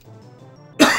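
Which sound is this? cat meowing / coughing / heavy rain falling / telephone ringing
coughing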